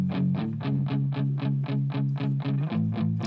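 A muted electric guitar played through a Crunch distortion setting with reverb chugs out an even, repeated rhythm of palm-muted notes, steady and fairly loud with no voices.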